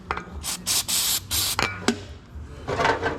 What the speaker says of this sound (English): Spray a little bit in there.